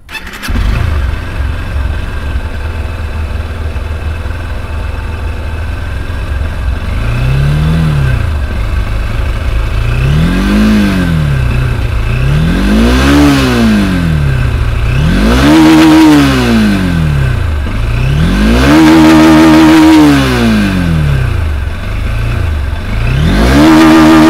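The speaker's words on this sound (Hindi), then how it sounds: "अब चलिए हॉर्नेट को स्टार्ट करते हैं।" A Honda Hornet 2.0 motorcycle starts up, idles, then revs repeatedly, loud and close, with about six rising and falling throttle blips that climb higher toward the end and no talking.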